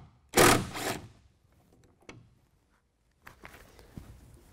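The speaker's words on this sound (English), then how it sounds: "We just use an 8mm, take out these two bolts right here." A power tool with an 8mm socket spinning out tail light bolts on a Ford F-150, a short buzzing whir followed by a few faint clicks and light taps.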